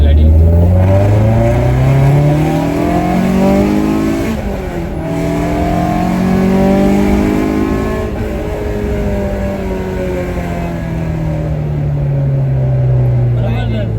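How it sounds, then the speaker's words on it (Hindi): A Honda K24-powered car making 230 hp accelerates hard in second gear, its engine note climbing steadily in pitch through a long loud pull with rising harmonics, then easing and building again. "क्या भागती है गाड़ी सेकंड गियर में"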